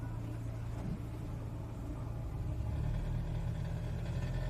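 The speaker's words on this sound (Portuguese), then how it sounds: "vou acelerar devagarzinho e você vai tentar ouvir o barulho que tá dando o carro" A Toyota Etios engine with a fault noise runs under gentle revving, a steady low rumble and hum that rises slightly in pitch and loudness toward the end, heard close with no talking.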